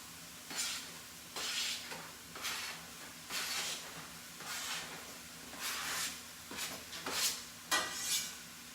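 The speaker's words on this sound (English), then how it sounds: "I'm just going to go ahead and add the veggies in." Vegetables stirred into a pot of broken-up meat and okra cooking down in liquid, rhythmic scraping and stirring strokes repeating about once a second over a soft simmer, close and moderate in level.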